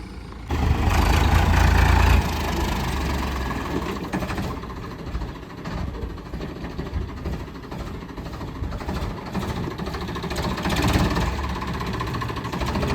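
A steady tractor engine rumbles close by throughout, loud low drone with a heavier burst near the start, then a constant running idle.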